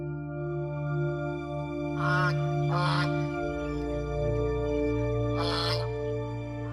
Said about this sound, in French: J'entends les cris des oies partout dans ma région natale.